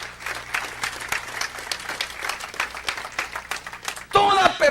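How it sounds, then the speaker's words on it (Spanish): Sustained audience applause with crisp individual claps in a busy, even rhythm, loud and close, giving way near the end to a voice speaking over the fading clapping. "Dale un aplauso, esa es la verdadera paternidad."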